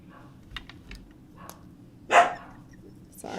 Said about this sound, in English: Sorry, my dogs are insane.